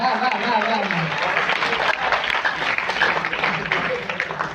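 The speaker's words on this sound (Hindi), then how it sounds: "तालियां बजाइए एक बार" Audience applause at a live Hindi poetry or stage event in Indore: a dense, steady wash of many hands clapping from a crowd, continuous and fairly loud, with a voice or crowd murmur blended underneath.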